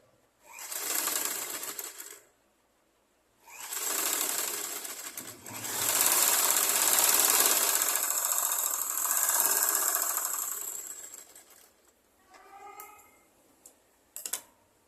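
A sewing machine stitches blouse fabric in three bursts, the longest running several seconds, with quiet pauses between them and a few light mechanical clicks near the end.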